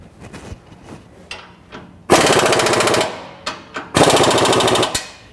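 A power impact tool tightens a Dynomax cat-back exhaust on a 1997 Ford F-150, with two loud rattling bursts of rapid hammering, each about a second long, and light clanks between them, close up.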